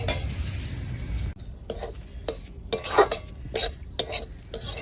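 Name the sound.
semolina frying and stirring in pan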